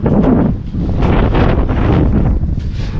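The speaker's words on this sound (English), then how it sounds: "It's got quite windy." Strong wind in Spain buffets the microphone with a steady, roaring rumble that swells and dips slightly, no voices heard.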